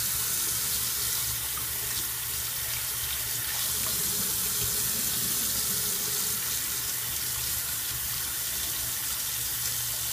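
Steady running hot water from a tap splashes continuously, with a low hum and faint clatter of e-cigarette parts being rinsed beneath the stream.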